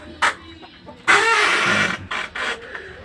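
Large Aseel rooster clucking nearby in a backyard flock, a few short sharp bursts followed by a longer loud cluck, with people talking around it.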